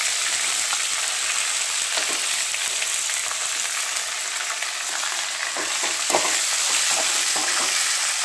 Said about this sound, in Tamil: இப்போ சோம்பும் ஜீரகமும் சேர்த்துடலாம். வெங்காயம் சேர்த்துக்கலாம்.